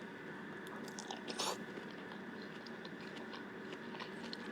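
Bok choy being bitten and chewed close to the microphone, soft crunchy bites with one louder crunch near the middle, over a quiet steady room hum and no talking.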